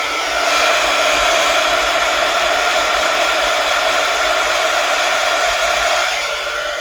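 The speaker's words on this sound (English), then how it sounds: "Let me get my heat gun out real quick." A heat gun blows steadily to dry paint, a loud, close, continuous whooshing roar that holds level for several seconds before easing slightly at the end.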